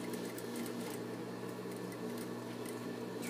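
A sewing machine stitching steadily around a small corner while lining is sewn, a continuous close mechanical whir with a faint rapid patter.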